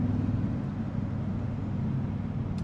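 A 2026 Toyota Sequoia TRD Pro engine with synthesized engine sound plays through the cabin as a steady, deep, low drone with even loudness and no talking.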